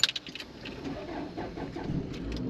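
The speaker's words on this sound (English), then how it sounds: "every time this car starts" Engine of an old hire 4x4 on Christmas Island cranks and catches after a jangle of keys, then settles into a rough close-up idle.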